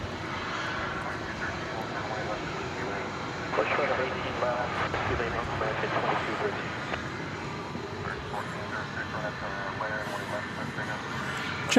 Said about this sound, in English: Here's flight 1406. It is going to San Antonio,